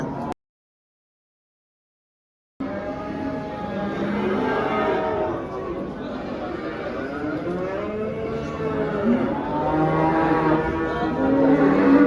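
Cattle at a village livestock market moo repeatedly, long drawn-out calls overlapping one another at close to middle distance, with a busy outdoor background after a brief silent gap at the start.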